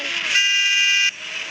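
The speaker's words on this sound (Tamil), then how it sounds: "நம்ம அடிப்போமா? ஹார்ன் அடிக்கவா?" One sustained car horn honk about three-quarters of a second long sounds loud and close, standing out over a continuous background hum.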